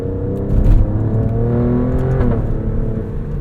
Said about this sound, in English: let's go into dynamic mode here. Listen to this V6.